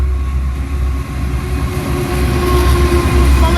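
A train led by an NR class diesel locomotive passes close by, a loud continuous rumble and engine drone with steady rail noise, building slightly toward the end.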